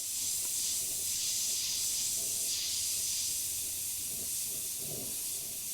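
An airbrush sprays white paint over an airbrushed skull, giving a steady, close, continuous airy hiss with no pauses that lasts throughout, alone and with no talk.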